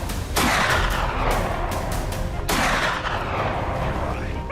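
Several loud gunshots are fired at wild boars outdoors on farmland late in the day, with sharp cracks followed by long rolling echoes across open ground.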